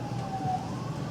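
An emergency vehicle siren wails at a distance, a thin rising and falling tone over steady low road rumble, faint and continuous throughout.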